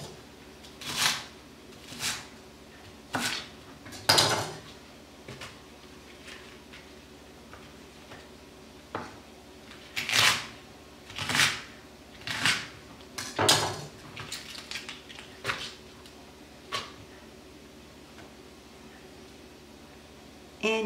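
Chopped chicken pieces drop into a bowl in a home kitchen, giving a string of separate clattering knocks and clinks spread unevenly across the stretch with quiet gaps between them.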